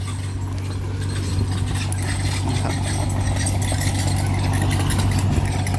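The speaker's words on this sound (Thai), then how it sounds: "ผมใช้รถไถตัวเล็กของผมตัดนะครับ" A small farm tractor engine idles and chugs steadily at close range in a rubber plantation, a continuous low rumble with some rattling on top and no talking.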